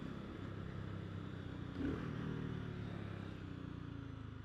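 A BSA Gold Star motorcycle being ridden along a back lane, its engine droning steadily and fairly close, with a brief swell in the middle and no talk.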